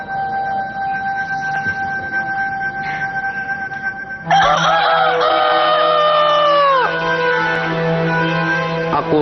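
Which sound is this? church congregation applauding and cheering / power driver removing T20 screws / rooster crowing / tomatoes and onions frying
rooster crowing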